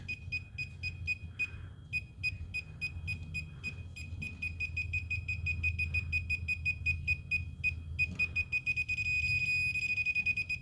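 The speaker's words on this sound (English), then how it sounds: "We were listening for the beeping to speed up." A handheld circuit tracer emits a fast train of high electronic beeps that quicken and grow denser toward the end, steady and close over a low background hum.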